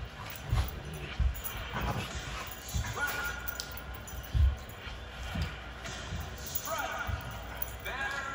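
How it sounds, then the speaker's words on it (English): A pet dog plays indoors with a scatter of thumps and soft whimpering yips, close and intermittent, under a person talking. "Alright, you guys see my dog's playing"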